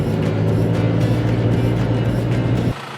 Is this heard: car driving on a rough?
yes